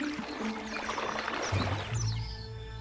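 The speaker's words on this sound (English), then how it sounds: "To get maximum suction, he dips his trunk into the water at an angle." A wounded elephant bull draws water up its trunk, dipped at an angle, giving a steady close liquid pouring and sloshing that swells into a deeper gurgling swirl near the end.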